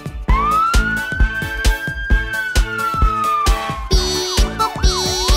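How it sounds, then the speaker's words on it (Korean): A loud rising and falling electronic police car siren wails over a steady thumping beat in a children's Tayo the Little Bus game, then breaks into faster warbling sweeps near the end. "날쌘 도둑 잡는 멋진 경찰차."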